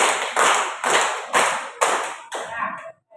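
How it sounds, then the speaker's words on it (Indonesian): A classroom group claps in unison, about six sharp, evenly spaced claps in quick succession, close and loud, the last one trailing off into a brief pause. "Tepuk 1, tepuk 2, tepuk 3, tepuk 4, tepuk 5"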